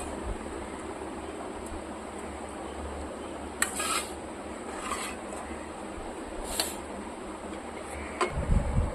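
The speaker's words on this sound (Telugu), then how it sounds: "టమాటాలు వేస్తున్నాను." Tomatoes stirred in a cooking pan for tomato pachadi give a few faint scrapes and metallic clinks over a steady background hiss, with a louder clink near the end.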